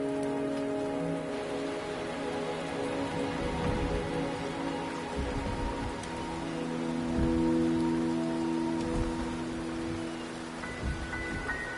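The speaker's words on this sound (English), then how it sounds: "The rain is subsiding, and the sky will soon clear." Rain in the video game Wuthering Waves falls as a steady, even hiss of patter under soft sustained background tones, with no voices.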